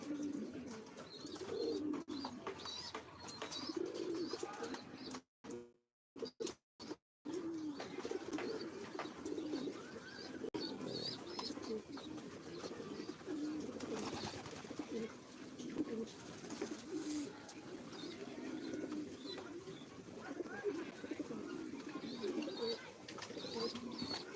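Pigeons let out in the afternoon coo softly and repeatedly at close range, their low burbling calls continuing through the whole stretch, broken by a brief dropout early on.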